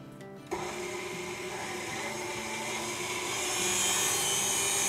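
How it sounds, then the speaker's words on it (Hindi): An electric beater switches on abruptly and whirs steadily, close and loud, beating egg whites with powdered sugar for a cake batter, with the motor's pitch brightening slightly as it runs. "अब इस पॉइंट पर हम डालेंगे इसमें 2 टेबलस्पून पाउडर शुगर और इसको अगेन बीट कर लेंगे।"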